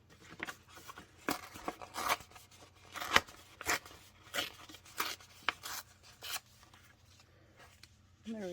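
Paper is torn by hand for Bible journaling, a run of short rough ripping and rubbing bursts at close range, separated by brief pauses, with no speech over them.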